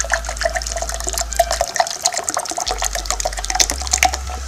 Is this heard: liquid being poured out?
yes